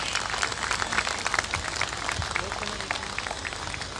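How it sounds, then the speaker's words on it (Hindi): Audience applause at a Babasaheb Ambedkar Jayanti ceremony, moderately loud and continuous for a few seconds, with indistinct voices mixed in. "तालियां बजती रहनी चाहिए प्लीज"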